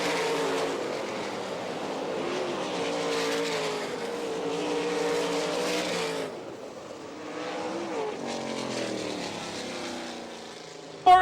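World of Outlaws sprint cars race on the dirt track at Rossburg, Ohio, their high-pitched engines whining and roaring past, rising and falling as they circle, with a brief lull before another car screams through.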